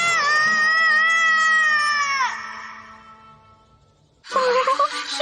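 A cat yowls in a long drawn-out wail that bends downward and fades, then a shorter, louder cry bursts out near the end, close and clear, from a Naruto Shippuden anime episode dubbed in Hindi.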